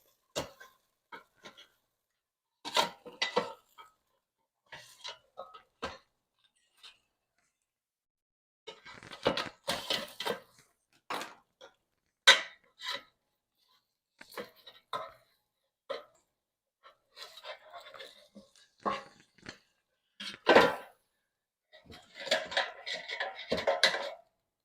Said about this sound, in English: So I'm just going to use a spatula here to separate it.